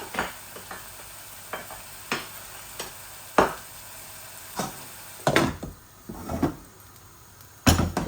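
Minced mutton keema with potato and tomato cooks in a pan, a faint sizzle running beneath sharp intermittent clacks and scrapes of a spoon stirring against the pan.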